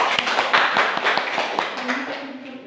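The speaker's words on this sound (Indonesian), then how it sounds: "Jadi kita berikan aplaus untuk kelompok 1." A small classroom group claps for group 1, a short burst of rapid, uneven handclaps that tails off quickly as a voice begins speaking.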